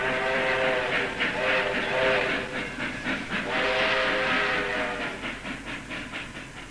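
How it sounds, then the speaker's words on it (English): A steam train moves along the line in a dramatised scene, its whistle sounding in long tonal blasts over a steady rhythmic chugging and rumble of the wagons. "as the train continued on its way"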